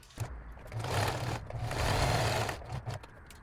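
A sewing machine stitches a zigzag seam on fabric in a close, steady whirring burst of about two seconds, with a few short needle taps before and after.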